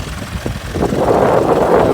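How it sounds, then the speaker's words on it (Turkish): Heavy wind roars and buffets against the microphone in a farm field in Girmeç village, Ankara, a steady low rumble that grows stronger partway through. "Şu an acayip rüzgar esiyor"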